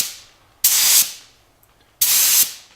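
A paint sprayer hisses out primer onto a bus ceiling in two short bursts of about half a second each, loud and close, separated by near silence.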